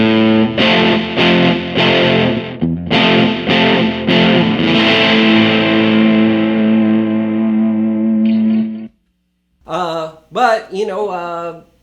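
A Gretsch Electromatic G5420 electric guitar through heavy distortion rings out with loud, near chords and sustained notes, then drops to silence before a few short, choppy stabs.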